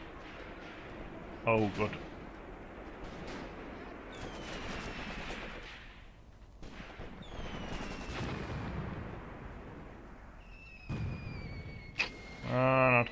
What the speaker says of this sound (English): here comes my artillery off-map